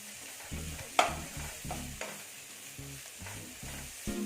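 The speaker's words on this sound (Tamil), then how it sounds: "கொஞ்ச நேரம் இப்படி வதக்கி விட்டுக்கிட்டே இருங்க" Cashews sautéing in a pan for mango rice, a soft steady sizzle with repeated spatula stirs and scrapes in an uneven rhythm, close but fairly quiet, with no talking.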